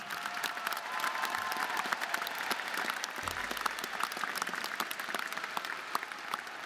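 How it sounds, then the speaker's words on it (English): A large national FFA convention audience gives a sustained round of applause, with dense overlapping claps and light cheering in a big hall, holding steady throughout. "Let's give them a big round of applause."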